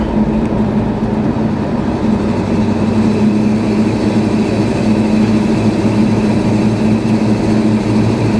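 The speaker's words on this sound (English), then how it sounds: "I sure like these mufflers way better than those old ones. They sound so much better." A steady, deep engine rumble drones on without a break, loud and close, from a pickup truck cruising with new mufflers and a throaty exhaust.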